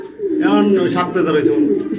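Soft, rolling coos from a pair of white Beauty pigeons repeat close by, blending with a voice talking over them throughout.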